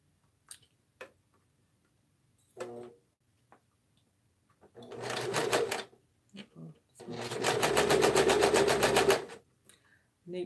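Sewing machine stitching in short bursts, close and loud, with a rapid mechanical ticking clatter. The longest run lasts a couple of seconds, and small clicks and handling sounds fall between the runs.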